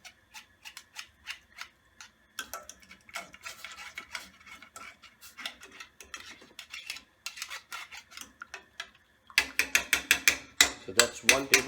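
Miso paste being dissolved through a metal strainer for miso soup with tofu: steady rhythmic scraping and light clinking of a utensil against mesh, quiet at first and then louder, sharper strokes toward the end.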